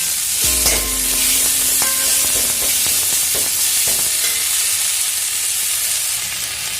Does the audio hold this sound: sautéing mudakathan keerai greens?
yes